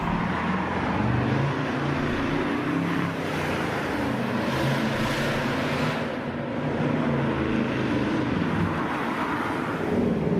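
A Mercedes-Benz OM629 V8 diesel engine roars steadily up close as it revs, a dense rumbling growl that swells slightly in the middle without breaking off.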